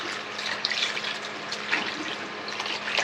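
Water pours steadily onto potted dahlias being watered after winter, a close, continuous splashing and trickling with small spatters throughout.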